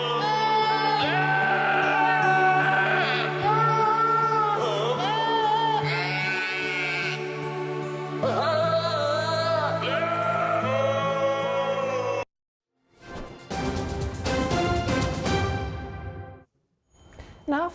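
Goats bleat in pitched, wavering cries set to a Swedish version of a Christmas song over a full musical backing for about twelve seconds, followed by a brief silence and then a shorter burst of other sound.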